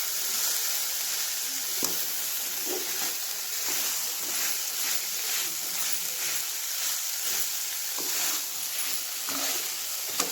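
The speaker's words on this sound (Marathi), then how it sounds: "तर ह्याच्यामध्ये आता गरम पाणी ॲड करायचं आपण." Hot water added to a sizzling chole gravy in a pan, a continuous hiss and sizzle with scattered faint pops and bubbling that stays steady throughout.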